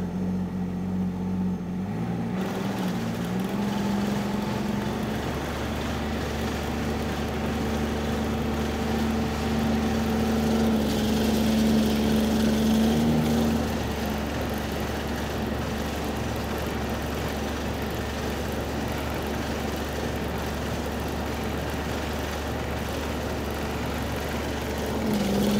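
A 2023 Ski-Doo Expedition G4 snowmobile engine starts and idles steadily in low gear, a continuous close, loud drone with a slight rise in revs midway and no talk.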